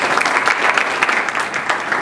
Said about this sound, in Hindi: इसके लिए भी जोरदार तालियां बजाएं